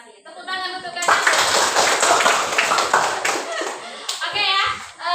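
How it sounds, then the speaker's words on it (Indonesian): A class of schoolchildren claps hands together in a long, loud burst of rapid clapping, with a teacher's voice speaking before and after. "Tepuk tangan untuk kalian."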